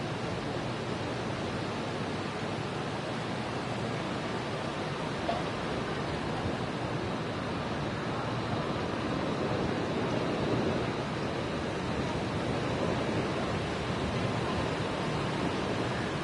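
Steady, broad wind rushing across the microphone on the Cornell University campus, a constant hiss and rumble with no pauses, moderately loud throughout.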